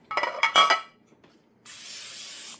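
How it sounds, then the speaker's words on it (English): A few clinks of metal and glass, then a steady hissing spray of cooking spray into an 8-inch pan lasting about a second, close and fairly loud. "I want to go ahead and spray an 8-inch pan with cooking spray."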